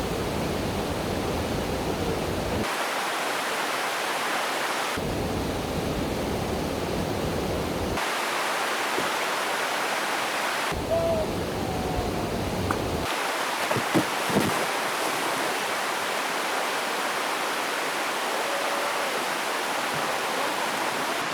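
A waterfall beside a log along the Pacific Crest Trail gives a steady broadband rush of falling water, with the roar swelling and dropping in sections and a few faint knocks near the middle.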